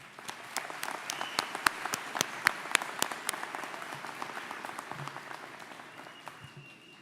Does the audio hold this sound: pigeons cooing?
no